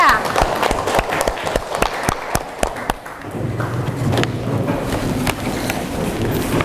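Classroom applause for a presenting student group, a few seconds of quick scattered clapping that gives way to murmuring voices and room noise.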